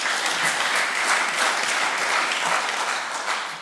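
Steady applause from a political debate audience, dense and sustained clapping throughout at an even level with no talking.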